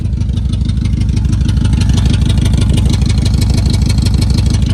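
Honda Accord with a full straight-pipe exhaust idling, a loud, close, steady pulsing rumble with rapid even beats and slight clatter, no voices.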